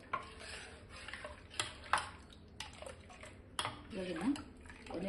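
A spoon stirs a milk mixture for milk holige in a pot, with soft scraping and liquid swirls coming in irregular strokes, fairly close and moderately quiet, plus occasional light clinks against the pan.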